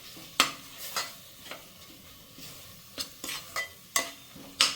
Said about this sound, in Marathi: आता मस्त मसाले परतून घ्यायचे आहेत